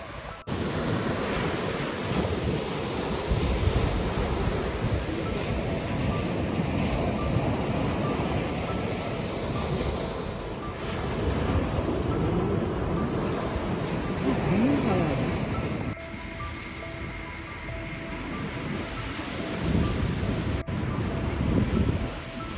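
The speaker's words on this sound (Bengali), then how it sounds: "আর এই বিচটা দেখো কত সুন্দর, পুরো সাদা বালি আর নীল জল" Ocean surf rolls onto a white-sand beach at Fort Pickens, Florida, a steady, loud wash of breaking waves mixed with wind buffeting the microphone and no clear pauses throughout.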